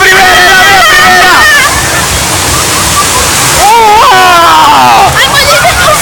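Ocean waves crash and splash in a loud, continuous roar that surges and swells close by, with excited voices shouting over the water.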